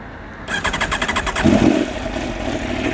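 A 2019 Aprilia Tuono V4 Factory motorcycle cold-starts with a brief starter whir, then catches and settles into a loud, close, throbbing V4 idle with a slight rev.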